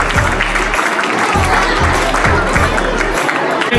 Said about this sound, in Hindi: जोरदार तालियों के साथ स्वागत सभी का एक बार दोबारा से।